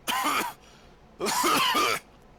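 Two separate coughing fits from one person, each a harsh burst lasting about half a second, close and fairly loud with a short quiet gap between them.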